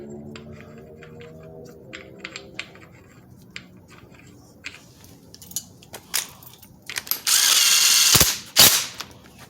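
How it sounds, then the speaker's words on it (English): A ratchet clicks in short, near runs while tightening the crank bolt on a Pontiac engine, followed by louder metallic clatter and handling noise at the end. "then you put the crank bolt back in right quick"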